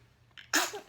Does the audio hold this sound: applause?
no